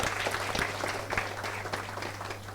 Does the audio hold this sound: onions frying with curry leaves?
no